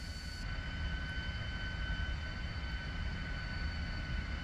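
A light civilian airplane's engine drones steadily at idle while parking among other small aircraft, a continuous low rumble heard close with no voices.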